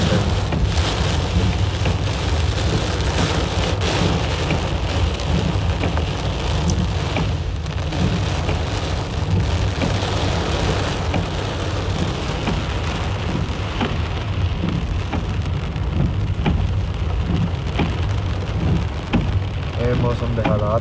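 Heavy rain pours steadily while driving a car on a road, a dense, loud, unbroken wash of drumming and hiss that lasts throughout.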